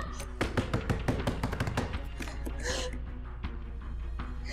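Someone bangs rapidly on a door in a dramatic scene, a fast flurry of knocks that slows to a few scattered raps, mixed with breathy, distressed vocal sounds.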